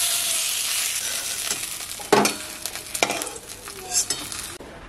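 A hilsa fish head fries crisp in hot oil with a steady bright sizzle, broken by several sharp scraping clacks of a spatula against the pan.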